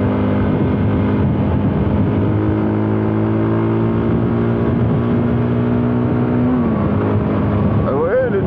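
Voge Rally 300 trail motorcycle held in fourth gear as it pulls up toward 70 km/h, a loud, steady engine drone with a rising pitch and heavy wind rush, while a rider talks over it.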